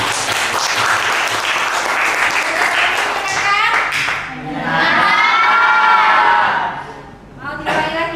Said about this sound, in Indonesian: Berikan aplaus buat teman-teman